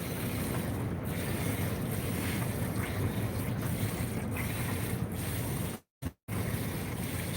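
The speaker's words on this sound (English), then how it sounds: "we have a windstorm right now in Ohio" Strong wind from a winter windstorm on an Ohio homestead roars and buffets the microphone in a continuous loud rumble, with a brief dropout near the end.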